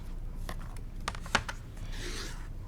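A rotary cutter slices through two stacked layers of quilting fabric, a faint scraping rasp with a few brief sharper ticks, close and quiet.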